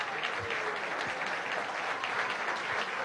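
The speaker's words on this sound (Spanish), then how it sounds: "Aplauden a esta hora al periodista Jordi Piña" Award ceremony audience at a national journalism prize event applauds a radio journalist, a steady, fairly distant wash of clapping from a large hall crowd.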